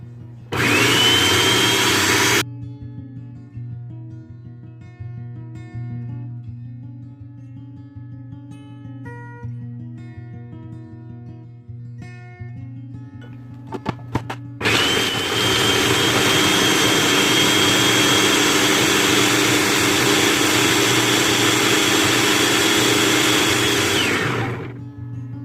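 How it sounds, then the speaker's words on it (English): Food processor grinding oats for egg-free, dairy-free banana bread, a loud whirring roar for a couple of seconds, then a lower hum while the motor keeps turning, then another long loud grinding burst of about ten seconds, close with no talking. "put it into your food processor like this. And you want to just grind it until it's nice and fine"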